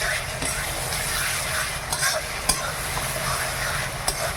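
Mutton frying with ginger and garlic paste gives a steady, close sizzle, with occasional spoon scrapes and knocks against the pan as it is stirred.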